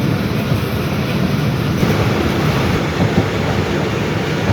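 Fareed Express passenger train pulling into Dera Nawab Sahib railway station, a steady loud rumble of rolling wheels and carriages with a constant broadband roar throughout, no voices.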